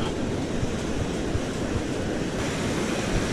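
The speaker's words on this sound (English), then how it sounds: "Okay, there's a wave coming." Pacific surf breaking on an Oregon beach during surf fishing for perch, a loud steady roar of waves with wind buffeting the microphone.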